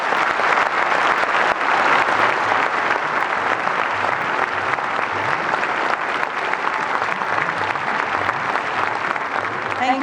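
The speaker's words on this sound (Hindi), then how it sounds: "एआई इम्पैक्ट समिट में प्रधानमंत्री नरेंद्र मोदी के संबोधन के बाद तालियों की गड़गड़ाहट गूंजती हुई नजर आ रही है" Thunderous applause from a large audience after Prime Minister Narendra Modi's speech at the India AI Impact Summit, loud continuous clapping that holds steady for the full stretch with faint crowd murmur beneath.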